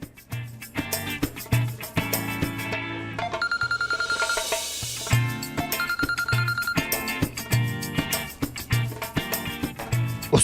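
A phone rings from an incoming call, short repeated electronic tones sounding in two bursts over loud background music, with no speech.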